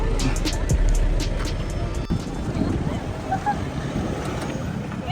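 An off-road vehicle crossing a river in Tanay, Rizal, with steady rushing water and splashing under wind buffeting and engine rumble, and voices talking in the background.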